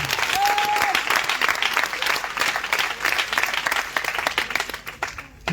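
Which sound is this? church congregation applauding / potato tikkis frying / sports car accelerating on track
church congregation applauding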